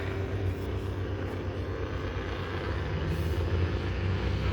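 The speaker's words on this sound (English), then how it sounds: "two Fokker triplanes in the air at the same time. 6 wings flying overhead" Two vintage Fokker triplanes drone overhead with a low, rumbling engine hum that stays steady and fairly distant throughout.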